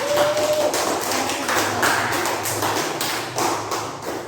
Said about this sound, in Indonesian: mari kita beri tepuk tangan untuk Flora yang mewakili kelompok 2